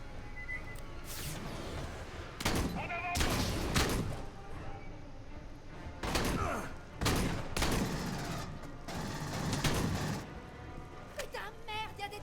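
Automatic turrets fire in the video game Aliens: Colonial Marines, with several loud bursts of rapid gunfire lasting about a second each, separated by quieter stretches of game ambience.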